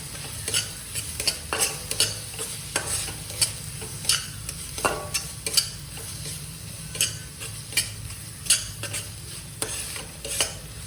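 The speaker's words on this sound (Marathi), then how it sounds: "कांदा लसूण मसाल्याचं पुन्हा एकदा तेल सुटेपर्यंत आपण याला छान परतून घेणार आहे" Chickpea curry with onion-garlic masala and kitchen king masala being stir-fried in a pan, a soft continuous sizzle broken by regular sharp spoon scrapes and taps against the pan, no voices.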